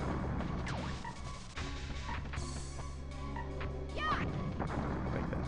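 Explosions in the Mischief Makers video game land as a few dull thuds and crashes over a steady game soundtrack, fairly faint and mixed with small electronic effects.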